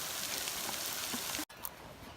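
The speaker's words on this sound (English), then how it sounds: "Raining a little bit on us, but heavily on the lake" Rain falls heavily across an alpine lake as a steady, dense hiss that fills the scene, briefly cut off partway through before resuming, with no voices.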